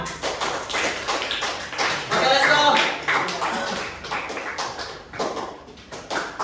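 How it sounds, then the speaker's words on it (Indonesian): Classroom hands clapping together in a burst of group applause during a mathematics lesson, a cluster of quick claps rising and fading over several seconds while a teacher's voice speaks over it. "tepuk tangan"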